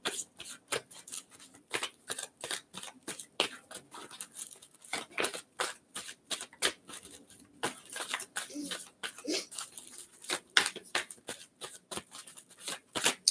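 A deck of angel cards gets shuffled by hand in a long run of quick, soft riffling bursts and taps, close and fairly quiet, with a little speech alongside.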